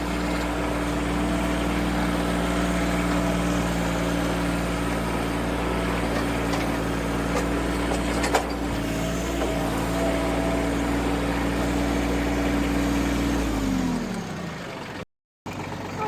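Tractor engine with a new clutch idling in a steady, loud mechanical drone, a brief knock midway, then winding down and cutting off near the end.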